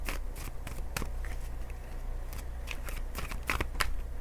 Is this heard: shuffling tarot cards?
yes